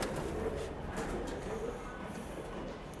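Soft cooing from a large pigeon at a pigeon club, low and continuous under steady background rumble with faint voices nearby.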